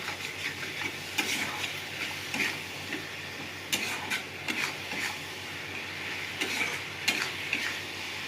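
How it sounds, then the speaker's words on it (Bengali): Spice paste for a chicken and potato curry sautéed in a pan, with steady soft sizzling and frequent rhythmic scrapes and taps of a spoon stirring it, close and fairly quiet, with no voices. "মশলাটা ভালো করে কষে নেবো।"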